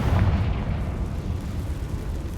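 A Confringo fire spell explodes in the Hogwarts Legacy video game, a heavy low boom that swells at once and then rolls on as a dense, rumbling blast for the rest of the moment, with no voices.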